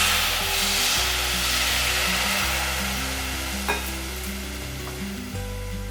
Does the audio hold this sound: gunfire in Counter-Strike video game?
no